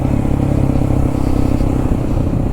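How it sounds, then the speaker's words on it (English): A Honda Grom motorcycle engine rumbles steadily nearby, with rough, crackling backfire pops from the exhaust sputtering through the low drone. "Ooh, the exhaust has some backfire to it."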